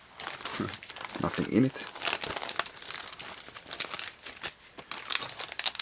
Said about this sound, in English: We got a cool Sega plastic bag.